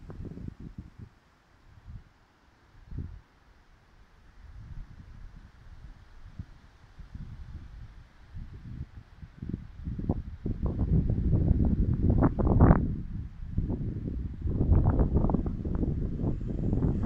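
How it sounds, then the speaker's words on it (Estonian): Wind blowing through a forest, a steady broadband rush that swells into louder gusts toward the end and stays fairly close, with no talk over it. "see on nii mõnus tuul, mis praegu on"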